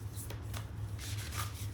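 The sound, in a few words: shuffling a deck of cards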